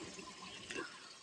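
Water overflows and pours out of a gomukh spout at a spring, a faint steady splashing and trickling with a brief louder gush near the end.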